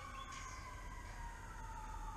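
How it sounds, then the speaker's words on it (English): Fire station sirens wail steadily in the distance near the Mayport Jetties in Jacksonville, Florida, a thin sustained tone rising and falling slightly over a constant background hum. "lots of sirens in the background from the fire station"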